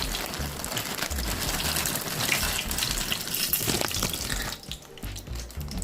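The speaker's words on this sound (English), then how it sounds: "So the water is boiling. I'll add my pasta." Pasta goes into a pot of boiling water on a kitchen stove, heard as a steady, close, loud rushing and bubbling wash of water that thins out near the end.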